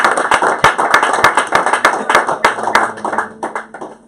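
Congregation at a church service applauding with steady rhythmic clapping, loud and close, many hands in a brisk beat that thins out toward the end.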